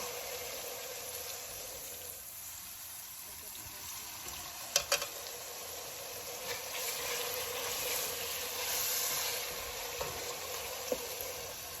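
Onions sautéing with salt in a pan while being stirred: a soft, continuous sizzle with a few scattered scraping clicks, heard from close by but at low volume.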